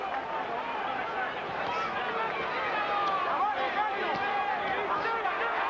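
Boxing arena crowd in a murmuring babble, steady and fairly faint, a low mass of voices under a commentator talking.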